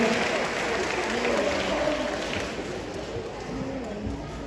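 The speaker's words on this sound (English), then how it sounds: "give a big round of applause too" Steady applause from a crowd at a sea lion show at Knowsley Safari, a dense patter of clapping that carries on throughout at an even, fairly loud level.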